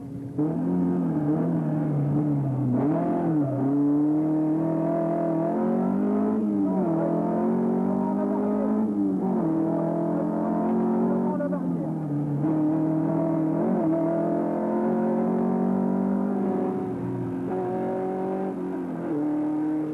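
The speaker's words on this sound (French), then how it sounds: "les berlinettes alpines étaient très spectaculaires" Alpine Berlinette race car on the Albi circuit, engine droning steadily and close for the whole stretch, pitch rising and falling through repeated gear changes and revving as it laps.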